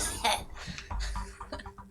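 A role-playing game player imitates a small cough with a few quick, close throat bursts, voiced among chatter at the table.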